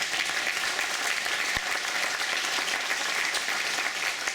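A town hall meeting crowd in Quincy, Illinois applauds loudly and evenly for Randy Fries, with dense, unbroken clapping and no talk over it.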